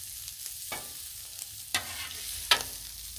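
Shrimp scampi sizzles quietly on a Blackstone griddle, with a soft steady fry under three sharp scraping stirs of a spatula spaced about a second apart.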